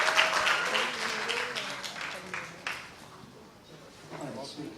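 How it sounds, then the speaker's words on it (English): Audience applause at a book launch, loudest at the start and thinning into scattered claps as voices talk over it toward the end. "Can we give them a round of applause, please?"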